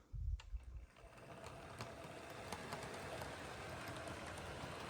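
An HO scale diesel locomotive hauls a string of boxcars with a CSX caboose, giving a steady, fairly faint whirring rumble that builds after a brief low thump at the start and then holds even.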